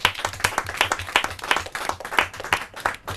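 Applause from a group of people at a team competition final, a steady burst of clapping hands that is fairly loud and close.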